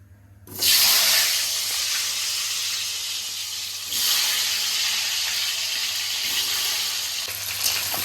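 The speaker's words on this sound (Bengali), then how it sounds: "এখানে আমি আলু, হলুদ আর নুন দিয়ে মেখে রেখেছি, ওটাই এখন প্রথমে ভেজে নেব।" Potatoes coated in turmeric and salt drop into hot oil for a paneer and potato biryani, bursting into a loud, close, continuous sizzle and hiss that swells again midway, with no speech.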